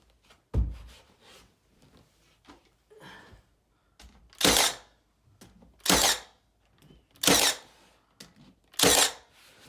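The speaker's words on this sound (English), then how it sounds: "This cordless nailer is perfect for this." A cordless nailer drives 1.25-inch nails through acoustic paneling into half-inch drywall, firing five sharp, separate shots spaced a second or two apart, with quiet handling noises in between.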